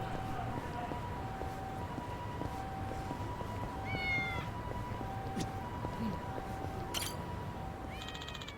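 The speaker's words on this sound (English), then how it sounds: "Oh, I hear a cat." A cat in the video game Yakuza: Like a Dragon gives a few short meows over steady game ambience and background music, with a brief siren-like wail around the middle.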